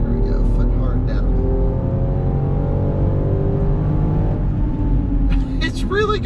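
A Land Rover Defender 110 with the P400 engine at full throttle pulls hard with a loud, rising engine note from inside the cabin, and someone speaks over it near the end.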